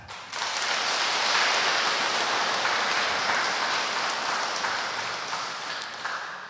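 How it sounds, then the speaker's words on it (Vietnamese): A large church congregation applauds steadily, dense clapping that swells quickly and holds for several seconds before easing slightly. "Xin được chúc mừng giáo sứ Hoàng Nguyên chúng ta một tràng pháo tay."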